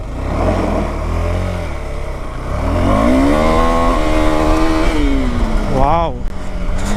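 A KTM Adventure 390 motorcycle engine, 2021 model, revs hard and swells in pitch during a slide on loose gravel, a loud continuous roar with a sharp rise and dip near the end.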